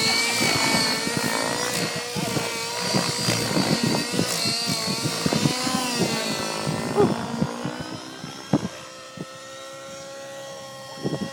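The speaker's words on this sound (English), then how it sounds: "somebody else's helicopter." Whining, buzzing rotor and engine of a T700 radio-controlled model helicopter with a flybarless system, loud and close, pitch rising and falling as it maneuvers, then easing off.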